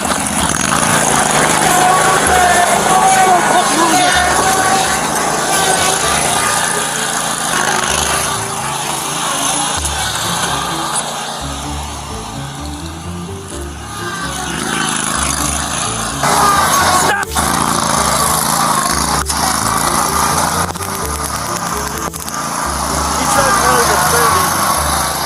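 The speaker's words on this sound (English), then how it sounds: "going about 4 mile an hour on the lawnmower" A riding lawnmower engine drones steadily as the mower drives along slowly during a police chase, with overlapping talk and radio chatter running over it for most of the stretch.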